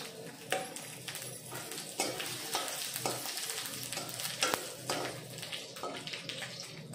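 Cumin, mustard seeds and dried chili crackle and sizzle in hot oil, with scattered popping bursts and faint stirring, close and fairly quiet with no talk.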